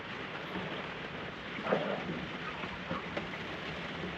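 Steady rain drums on a steel sailboat as a lightning storm eases off, a dense constant hiss with a slightly louder gust or surge partway through and no voices.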